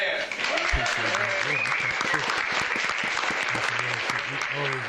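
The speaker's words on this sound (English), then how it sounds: "So let's give a round of applause to Gretchen." Applause from a live-stream audience for a supporter named Gretchen, steady dense clapping throughout, with people talking and background music tones running underneath.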